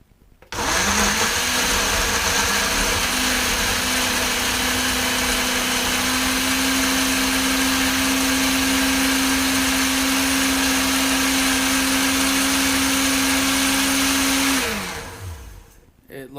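A Ninja Professional BL660 blender spins up and runs loudly and steadily, blending fruit, milk and sugar, with a sustained high-pitched motor whine that holds for about fourteen seconds before winding down and stopping.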